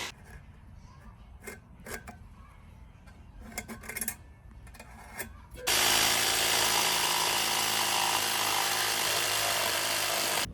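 Light tapping and handling noises for several seconds, then a loud, steady power tool whine starts abruptly and runs on, cutting a circle to fit inside an aviary finial outdoors.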